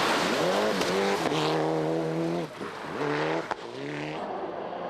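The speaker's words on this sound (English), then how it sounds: "Championship leader Tommy Mäkinen's Mitsubishi Lancer was first into the forests." Tommy Mäkinen's Mitsubishi Lancer rally car at Rally New Zealand 1997, blasting through a forest stage with loud rising engine revs, sharp gear changes and repeated pitch climbs, close and aggressive.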